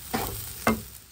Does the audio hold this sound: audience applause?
no